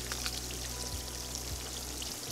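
Liquefied lard poured from a crock pot during rendering gives a steady, close pour with soft trickling, running without a break and with no talking.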